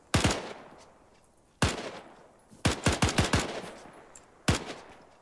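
Gunfire in the military sim Arma 3, trench combat on Crete: sharp single shots and a rapid burst of several rounds, loud and near, with ringing decays between them and no talk.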